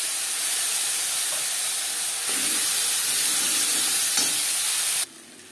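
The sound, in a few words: ginger and chili paste frying in pan for fish curry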